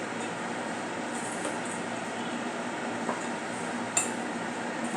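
Ingredients for an Indori methi palak vada mixture are stirred in a bowl, giving a steady, dense scraping and clatter with a couple of sharp clinks near the end, with no talking.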